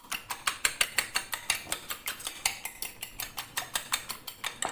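An egg seasoned with black pepper and salt is whisked briskly in a bowl, giving a quick steady train of light metallic clicks and taps, close and fairly quiet, with no talking.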